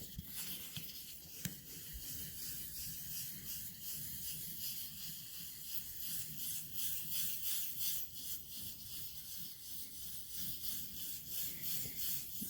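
Hand sanding of scratches in a car's clear coat gives a continuous close rasping rub, back-and-forth strokes repeating steadily with no speech.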